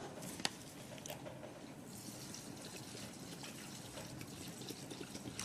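Alcohol and ethanol are poured into a hand sanitizer gel mixture, a soft, steady trickle of liquid that is quiet and continuous, with one brief knock near the start.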